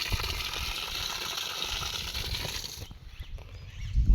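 Rainwater from a 2,000-litre storage tank used for irrigation rushes out in a steady, close gushing flow that cuts off abruptly near the end.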